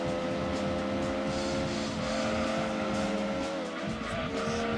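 A Mazda MX-5 drifts through a corner in Gran Turismo 2, its engine droning loudly and steadily while the tires squeal in sustained tones that shift pitch partway through.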